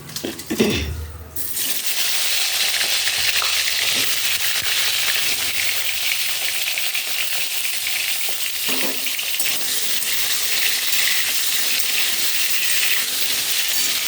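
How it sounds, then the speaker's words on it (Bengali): A whole pointed gourd (potol), slit on the sides and rubbed with salt and turmeric, fries in oil. A loud, even sizzle starts after a short clatter and runs on steadily and up close. "তাই পটলটাকে এই তেলের মধ্যে দিয়ে ভাজতে থাকি।"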